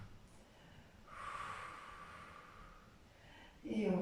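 Someone takes a slow, deep breath during a yoga shoulder stretch, a soft sustained airy inhale and exhale close to the microphone, followed by a louder breathy onset.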